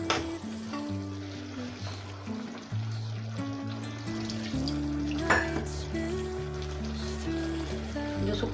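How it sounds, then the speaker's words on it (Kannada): Yam sukkha fries in a pan with a soft, continuous sizzle and occasional stirring, set beneath steady background music. "ಸರಿಯಾಗಿ ಫ್ರೈ ಇದು ಬೇಯಬೇಕು."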